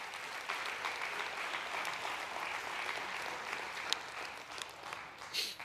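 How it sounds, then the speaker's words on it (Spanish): A church congregation applauding during a service, a steady wash of many hands clapping at moderate distance, fairly faint and sustained throughout. "Si le dan un aplauso, mire, délo con gana."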